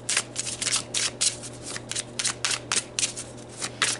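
Tarot cards being shuffled by hand, a rapid run of crisp papery riffles and flicks in quick uneven bursts, close and fairly loud with a low steady hum beneath.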